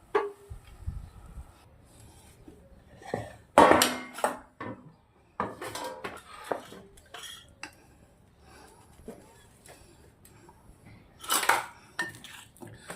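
Soft dough is tipped out into an oiled steel plate for Rajasthani besan gatta, giving a few knocks and scraping clatters of metal utensils against the plate, with louder bursts near the start and end and quieter handling in between.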